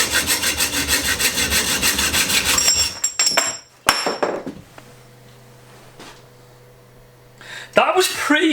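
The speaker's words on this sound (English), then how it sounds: "That's a nice hacksaw." A hacksaw cuts rapidly in a home mountain-bike garage workshop, loud rhythmic rasping strokes for about three seconds, then stopping, followed by clatter, scraping and handling noises, with someone speaking briefly.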